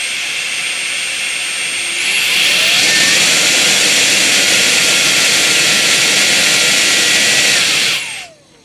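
A HEIXUE mini turbo brushless handheld jet fan, rated at 110,000 RPM, spins up to a loud, piercing whine and holds it steadily, then winds down sharply at the end.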